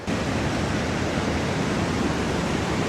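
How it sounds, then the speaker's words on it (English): A steady, loud roar of falling water fills the whole clip, broad and unbroken, from a waterfall in the Rocky Mountains heard up close. "That is a beauty of a waterfall."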